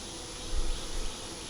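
Honeybees buzzing around a hive being checked after a month, a soft continuous hum with a brief swell in the middle, faint and steady with no voices.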